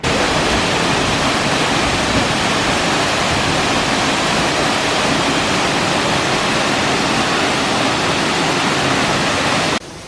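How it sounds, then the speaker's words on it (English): A steady, loud rush of falling water roars without pause from a waterfall in Monteverde, Costa Rica, broad and even, like standing close to it. "I like the waterfall."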